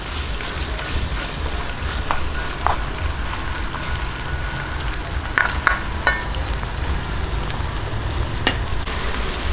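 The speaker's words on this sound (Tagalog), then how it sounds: "lagay na po natin itong ating chicken. Isa-gisahin lang po natin hanggang mag-light brown." Pieces of chicken breast sauté in a pan, a dense continuous sizzle with scattered sharp pops and crackles, close and steady, with no talking.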